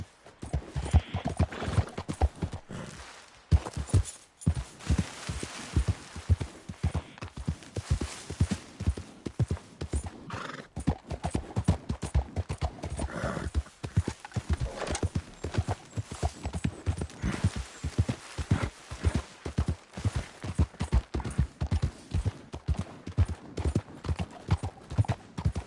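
In Red Dead Redemption 2, horse hooves clip-clop in a steady, galloping rhythm that runs throughout. Occasional brief pauses break the pattern, and a faint whinny can be heard.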